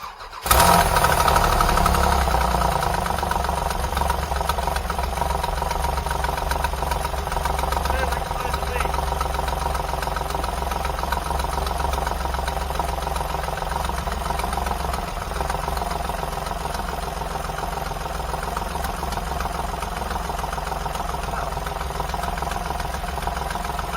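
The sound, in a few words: Dodge Daytona engine running after muffler install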